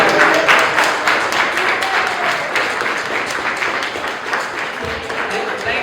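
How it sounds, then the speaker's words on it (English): A live audience at an interview and Q&A event claps for a birthday, with steady, close, fairly loud rhythmic clapping running throughout. "Let's clap it up one more time for the birthday."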